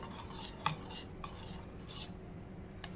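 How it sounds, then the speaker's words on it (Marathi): Mango pulp mixed with water, sugar and salt is stirred with a spoon in a bowl, giving soft scraping clinks and rubbing strokes at close range, with no talking. "तर त्याला मिक्स करून घ्यायचं जेव्हापर्यंत साखर विरघळत नाही"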